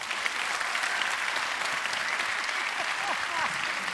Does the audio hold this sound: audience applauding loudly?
yes